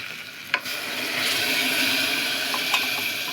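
A sharp splash as water is poured into a hot pan of chilli spices, followed by a loud, sustained sizzling hiss that settles into steady bubbling.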